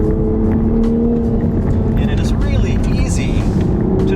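A 2020 Toyota Supra driven hard on a poor, rough mountain canyon road, its engine droning loudly and continuously with steady road and tire roar throughout.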